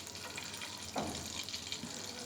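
Chopped garlic frying in melted butter makes a faint, steady, even sizzle heard close up, with one slightly louder crackle midway.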